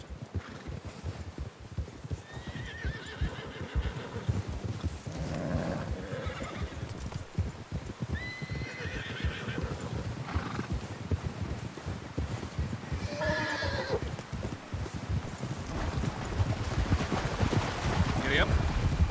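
In the video game Red Dead Redemption II, horses whinny and neigh repeatedly over a constant patter of galloping hooves and rumbling movement, with voices speaking faintly in the mix.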